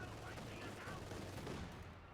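Rapid canister shot gunfire from Company of Heroes 2 crackles in a dense, continuous barrage, steady and fairly distant, with a game commentator's voice faintly under it.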